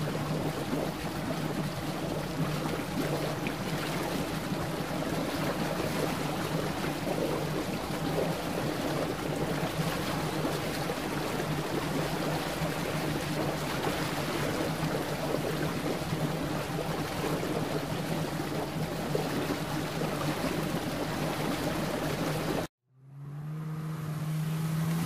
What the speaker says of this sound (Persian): قایق پارویی.